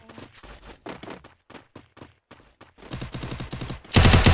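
Rapid bursts of gunfire in Free Fire, sharp cracks in quick succession, growing denser and louder toward the end.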